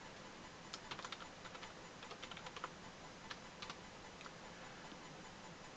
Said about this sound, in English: So we'll type in our password.